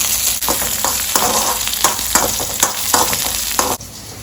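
Green chillies and asafoetida sautéing in a pan for mango pachadi, giving a loud, close, continuous sizzle with rhythmic spatula strokes scraping through every half second or so, easing off at the very end.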